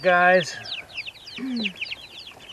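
Chickens in a backyard coop with a meat bird among them, giving a few soft clucks and chirps near the microphone while a person talks briefly at the start.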